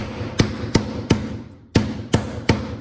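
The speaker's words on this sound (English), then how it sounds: "smack it down a little bit more, flip it and smack it" A clay slab is smacked down by hand onto a slab mat, six firm slaps at a steady rhythm with a brief pause midway, each a close, punchy thud.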